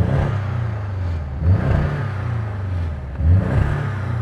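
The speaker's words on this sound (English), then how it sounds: "So this is the new car's engine." The turbocharged flat-four petrol engine of a Porsche Boxster idles close by with a steady hum. It is blipped twice in quick succession, each rev rising briefly and then dropping back to idle.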